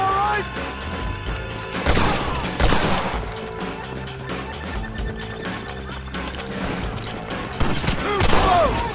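Video game gunfire in Red Dead Redemption, dense rapid shots and crashes in a chaotic shootout, with horses whinnying and voices shouting over the loud, continuous barrage.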